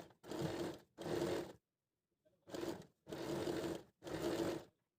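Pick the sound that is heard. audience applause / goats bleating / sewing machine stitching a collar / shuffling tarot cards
sewing machine stitching a collar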